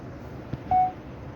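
A single short electronic dialing tone from a satellite phone, one steady beep of under a second, moderately loud against faint background hiss, with a small click just before it.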